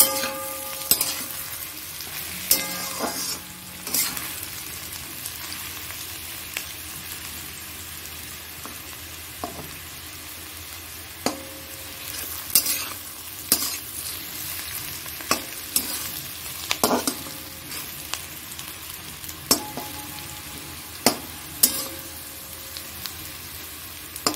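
Steady sizzling of thin pointed gourd slices frying in a pan, with occasional scraping and stirring clinks of a spatula against metal throughout.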